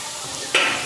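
Chicken pieces hit hot spice masala with a sudden sizzle and stir, a short burst of frying hiss rising out of a steady background of cooking noise.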